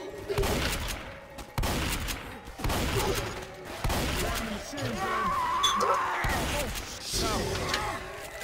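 Shotgun and Uzi gunfire in the game Left 4 Dead, loud and close, with repeated blasts and rapid bursts over several seconds; someone speaks over the shooting.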